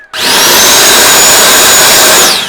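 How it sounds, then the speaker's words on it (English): A JUFINX electric leaf blower with a 64mm motor kicks on abruptly and blasts a loud, steady high-pitched whine of rushing air, close up and unbroken until it starts to fade at the end. "This is now what they would consider to be a leaf blower."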